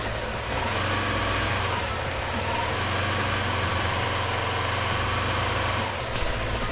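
A motorcycle engine is held at a steady, raised 2500 RPM during a charging test, giving a constant, moderately loud hum that barely changes, with a small bump near the end.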